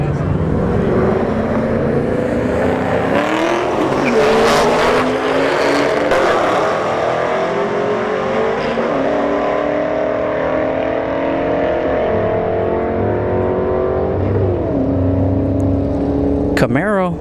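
A Chevrolet Camaro and a BMW making a drag race run at a street drag-racing event at a motorsports park: loud, sustained engine roar climbing through rising gear sweeps with upshifts, heard from nearby in the crowd.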